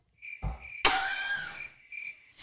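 Crickets chirp in a quiet sound-effect burst, a steady high trilling that runs alone for a couple of seconds with a brief louder crackle partway through.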